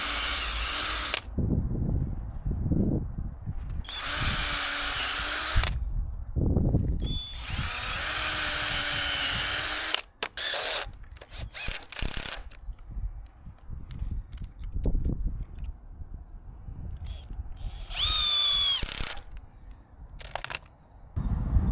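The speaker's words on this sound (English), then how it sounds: "I'm measuring and cutting my timber to length and then screwing it together to make a rectangular frame." Cut timber is screwed together into a rectangular shed-base frame with a power drill, several loud bursts of whirring with pauses between, plus clattering handling noises and shorter drill blips.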